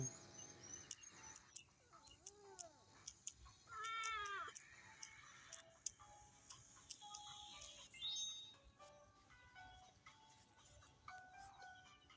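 A cat meows repeatedly in rising, wavering cries among quiet clicks and tones from a casual game, with chirpy game sounds layered in, all fairly faint.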